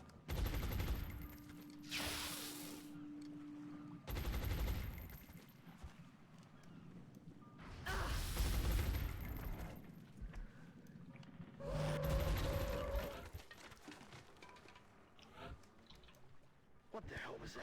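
Suppressive gunfire aimed at a grenadier in the strategy game XCOM Long War, heard as repeated loud bursts of rapid shots at intervals, with people talking through and between them.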